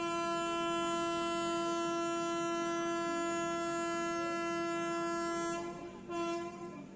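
Super Dadar Express train on the Kurla Terminus to MGR Chennai run, sounding a long, loud, sustained multi-tone horn over a rolling rail rumble; the horn cuts off near the end and gives one short final blast.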